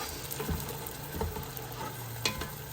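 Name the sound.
stirring tomato puree frying in oil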